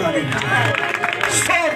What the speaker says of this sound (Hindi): जोरदार ताली के साथ हालेलुया